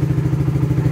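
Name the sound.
motorcycle engine running while warming up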